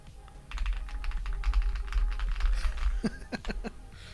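Typing on a muted, creamy-sounding mechanical keyboard, a fast run of soft keystrokes close to the mic, with a few sharper louder presses near the end, under a low background hum.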